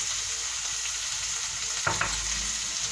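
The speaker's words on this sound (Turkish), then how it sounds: "bir miktar daha tüm sebzelerimle kavuralım." Vegetables and meat sauté in a pan for a pea stew, giving a steady close sizzle with a brief scrape or stir near the end and no voices.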